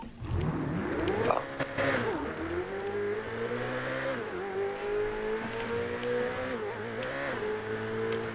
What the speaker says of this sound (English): I'm legging it in the Ferrari.